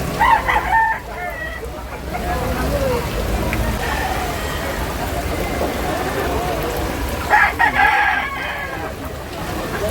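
Chickens and roosters at a rainy Cebu market crow and cluck, with a loud rooster crow near the start and another near the end over a steady hiss of heavy rain, and a voice talking in between.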